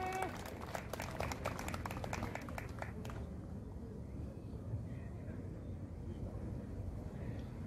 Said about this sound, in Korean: 여러분 큰 박수로 오셔 주십시오